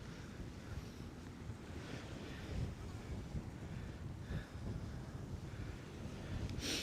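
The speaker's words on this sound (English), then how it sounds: "Look how windy it is, guys" Strong wind at Coney Island, New York, on the beach, buffeting the microphone in a constant roar with surf washing beneath it, rising in gusts and loud throughout.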